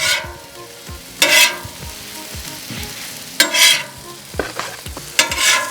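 Tortillas sizzle on a mesquite grill, a steady close crackle interrupted by several loud bursts of scraping and stirring as they are moved and flipped, with no one speaking.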